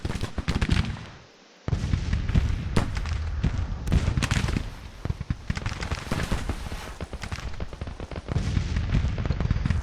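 Musket volleys and artillery fire from a Civil War battle at Pea Ridge in the strategy game Grand Tactician: The Civil War. Dense, rolling cracks and booms run almost continuously, with a brief lull near the start.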